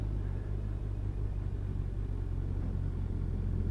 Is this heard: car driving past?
yes